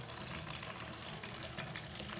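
Tap water pours steadily into a container used to rinse cooking utensils, a continuous close gushing splash running the whole time with no voices.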